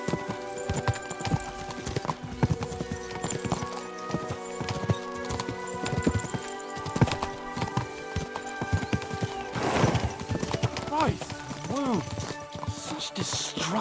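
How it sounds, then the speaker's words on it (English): Horses gallop in Kingdom Come: Deliverance II, their hooves clip-clopping in a steady, continuous rhythm at moderate distance beneath tonal game music, with a brief whinny near the end. "We should spur the horses on."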